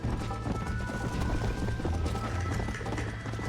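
Galloping horse hooves in Red Dead Redemption, a steady quick clip-clop rhythm running under game music and ambience, with brief voices nearby.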